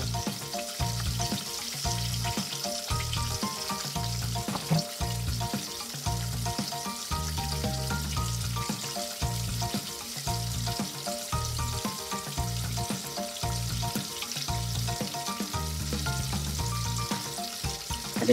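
Chicken pieces frying in hot oil KFC-style, giving a steady, continuous sizzle and crackle throughout, with rhythmic music playing over it.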